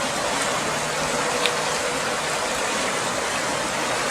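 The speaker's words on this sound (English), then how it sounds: "I know this the river's causing some noise pollution." Conneaut Creek flows at night in the woods, a dense, steady rushing wash of water that fills the air evenly and without a break.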